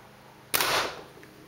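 A Rotor-fed Ego11 paintball marker fires one sharp pneumatic shot of reusable paintballs through a chronograph, with a loud close pop and a short hissing tail.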